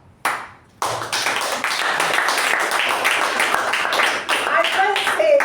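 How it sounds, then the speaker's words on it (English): Sustained audience applause at a Toastmasters club meeting, a dense steady wash of many hands clapping that starts abruptly after a brief moment and continues loudly throughout. "I must say, this resounding applause"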